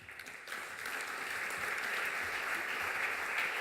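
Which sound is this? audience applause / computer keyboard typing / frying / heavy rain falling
audience applause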